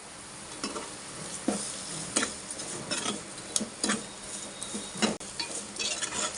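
Ginger garlic paste sizzling in hot oil for a fish curry, with steady frying crackle and repeated scrapes and clinks of a spoon stirring the pan, no voices.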